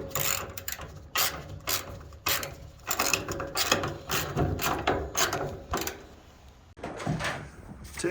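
A ratchet works loose two bolts on the engine of a 1961 Renault Dauphine, its quick clicking strokes repeating in bursts at close range before a short pause and a final run of clicks.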